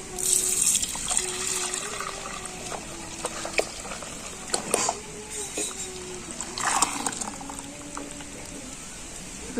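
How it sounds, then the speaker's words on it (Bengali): Warm milk is poured into a clay pot for sweet curd, a soft trickling and splashing pour heard close up at a fairly low level, with occasional clinks and a few light knocks. "এই অবস্থায় আমি এবারে দুধটা মালসার মধ্যে দিয়ে দেবো"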